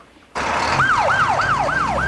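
An ambulance rescue vehicle siren wails in a steady rising-and-falling cycle, loud and close, starting abruptly after a brief quieter moment and repeating about four times with traffic rumble underneath.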